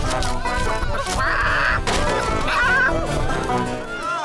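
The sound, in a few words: chicken clucking in a cartoon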